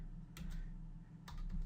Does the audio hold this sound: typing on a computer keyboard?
yes